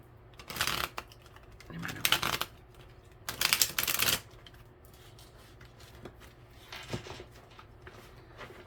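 Several bursts of tarot cards being shuffled close by, each a quick riffling flutter lasting about a second, separated by pauses with faint handling noise.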